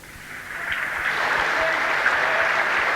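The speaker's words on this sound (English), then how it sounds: "Great and generous round of applause for the Commonwealth champion from '86, England's Keith Boxell" Audience at the 1990 Commonwealth Games 90 kg weightlifting event applauding a lift by England's Keith Boxell, with dense clapping that swells over the first second and then holds steady and loud.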